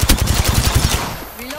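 Rapid automatic gunfire from a battle royale video game, a fast burst of repeated loud shots for about a second before dying away, with faint game effects trailing after.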